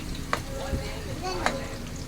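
Hot oil sizzles and spatters while frying, a soft steady crackle with a couple of sharp pops, under faint voices and stray pitched sounds in the background.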